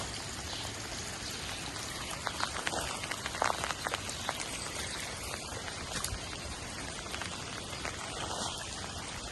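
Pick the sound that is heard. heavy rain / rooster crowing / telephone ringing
heavy rain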